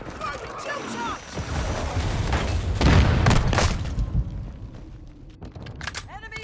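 A gel charge fired in Call of Duty: Modern Warfare II, a heavy booming blast that swells around three seconds and rolls away, surrounded by clatter and scattered shots, with voices talking near the start and end.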